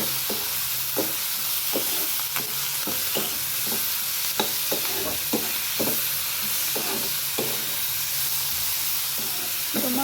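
Mint and coriander frying in a pan for mutton paya soup, a continuous loud sizzle and hiss with repeated scraping stir strokes of a spatula against the pan, close and without talk.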